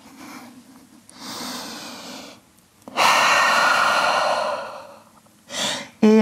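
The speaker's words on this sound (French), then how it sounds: "Grande respiration en chien tête en bas" Deep breaths are taken while holding a downward dog pose in a vinyasa yoga session: a long inhale, then a louder, fuller exhale, ending with a short sharp breath, all close and clear with no talking.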